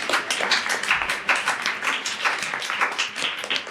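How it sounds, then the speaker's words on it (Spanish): Studio audience applause for guests on a travel talk show, a dense steady patter of many hands clapping at moderate level throughout, with no voices over it. "Un fuerte aplauso para ellos."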